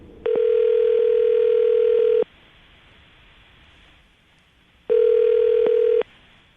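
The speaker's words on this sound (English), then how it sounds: "I'm going to dial this phone over right now" A telephone line gives two long, steady electronic tone bursts separated by a few seconds of quiet, a clear ringing cadence heard close on the line.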